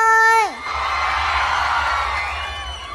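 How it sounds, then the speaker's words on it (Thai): Crowd at a comedic Isan-language stage show screams and cheers loudly on request, a sustained mass of whoops and shrieks following a voice that swoops down in pitch, then slowly fading. "ขอเสียงกรี๊ดหน่อย"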